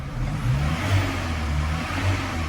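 Heard from inside the cabin, the engine of a Ford Ranger 2.0 EcoBlue 4x4 makes a muffled, steady low hum with a few gentle swells in revs.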